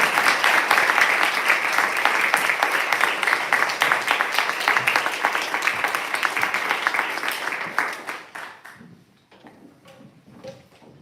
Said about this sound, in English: Please give a big round of applause for Kenyatta